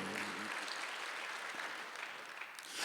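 A church congregation at a Sunday worship service breaks into sustained applause, a dense wash of many hands clapping that fills the room steadily from start to finish with no break.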